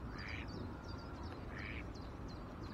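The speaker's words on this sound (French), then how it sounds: "Il y a énormément de canards ici sur cette partie de canal" A group of ducks on a canal quacks repeatedly at a distance, faint and scattered over a steady outdoor rumble.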